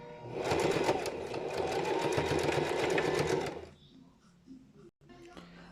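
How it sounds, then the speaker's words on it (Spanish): A sewing machine backstitches to secure the waistband seam of a pair of shorts, running loud and steady for about three and a half seconds before stopping abruptly, leaving faint room sound. "voy a dar un buen remate para que quede fija esta costura"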